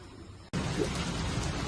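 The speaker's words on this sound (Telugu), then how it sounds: "ఇప్పుడైతే రాత్రిలో వర్షం అయితే ఫుల్ కురుస్తుంది ఫ్రెండ్స్" Heavy rain pours down at night in a village among hills, starting abruptly as a dense, loud, continuous hiss after a quieter opening.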